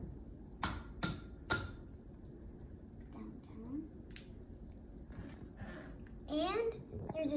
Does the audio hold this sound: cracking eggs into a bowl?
yes